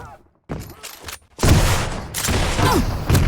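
Rocket launcher explosions from a Quake duel match, a series of loud booming blasts and gunfire bursts close up, with a brief lull before heavy continuous combat noise.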